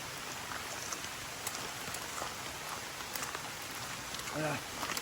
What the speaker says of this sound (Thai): รู้สึกว่าฝนตกหนักเลยทุกคน